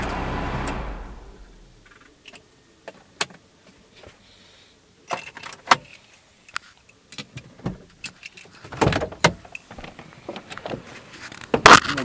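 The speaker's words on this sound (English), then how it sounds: "I'm gonna go ahead and shut the car off now." A Ford Focus SVT ZX3 hatchback is switched off: engine noise stops within the first two seconds, then quiet cabin ticks, clicks and small handling sounds follow intermittently.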